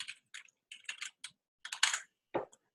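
Computer keyboard typing in short, quick bursts of clicking keystrokes with brief pauses between them, close and clear with no talking.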